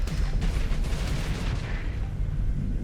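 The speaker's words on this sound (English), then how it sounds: "we are mowing stuff down with the Jolnir cannons" Jolnir cannons fire in the space combat game Starsector, a rapid barrage of heavy booming shots that blur into a continuous, loud rumble.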